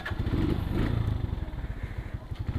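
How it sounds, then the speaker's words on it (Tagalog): A motorcycle engine drones steadily while riding on a delivery run, a loud close rumble with pulsing low throb; the bike has faulty spark plug caps causing misfires. "Sana hindi magloko yung motor ko."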